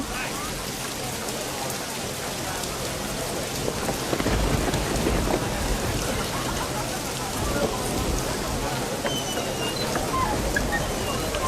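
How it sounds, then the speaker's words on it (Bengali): Heavy rain pours steadily onto surfaces with rumbling thunder beneath, a dense continuous downpour with no clear pause. "এর জন্যই তো রহমতের বৃষ্টি হচ্ছে"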